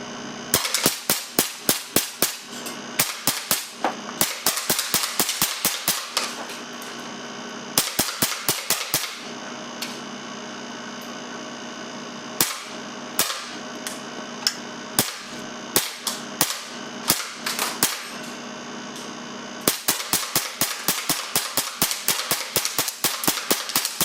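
.177 BB air cannon with a new valve and electronic controls, firing semi-auto at a can ten meters away on 450 psi: rapid bursts of sharp cracking shots in quick strings, separated by short pauses and a few single shots.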